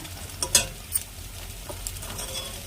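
Fritters of milk chhana fry in hot oil with a steady sizzle, broken by a few sharp spatters and pops near the start, close and continuous.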